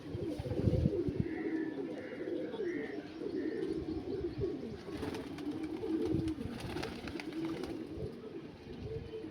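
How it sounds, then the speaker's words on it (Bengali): A male pigeon of a Chennai breed coos in soft, repeated low rumbling calls, with faint chirps from other birds mixed in. The calls come at moderate distance against a steady background. "এটা একটা মেল পায়রা"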